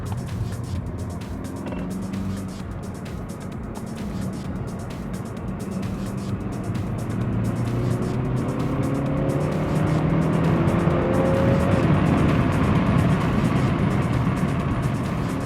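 A car lapping the Zandvoort Formula 1 circuit on a track day, held in third gear, its engine drone loud and steady with rising and falling pitch as it accelerates, swelling louder toward the end, with no talk.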